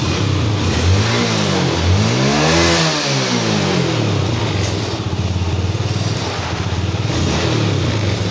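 A Yamaha Force FI motorcycle engine, which shows a fault code 55 warning, rumbles loud and close, revving up and back down once before settling into a steady idle.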